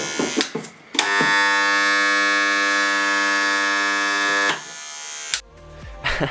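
A homemade portable spot welder gives a loud, steady electric buzz lasting about three and a half seconds, with a few sharp clicks just before it starts and after it stops.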